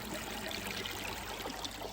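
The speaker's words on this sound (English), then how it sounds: "that little stream going down, that's where I got water" A small mountain stream on the Appalachian Trail in New York trickles steadily, a soft, close, continuous burble of running water.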